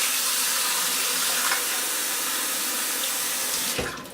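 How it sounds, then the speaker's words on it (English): Very hot tap water runs steadily into a cup holding a glass bowl, a continuous broadband hiss of pouring and splashing that stops abruptly near the end. "we're just going to fill this up with really hot"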